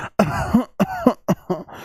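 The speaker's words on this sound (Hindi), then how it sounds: "नाटक में क्या हो रहा है? बिस्नी खांस रही है" A woman in a stage drama gives a series of close, loud coughs, four or five harsh bursts spaced by short breaths.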